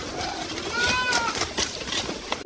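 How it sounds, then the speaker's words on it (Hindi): Goats bleat in a grazing herd, with a few wavering cries rising over a dense, continuous rustling background of livestock. "शंभू नाम का बकरी चरवाहा रोज अपनी बकरियों को चराने के लिए मैदान की तरफ निकल जाता था।"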